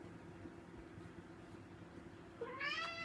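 A house cat gives a short meow near the end, fairly close and clear, over a quiet steady background hum.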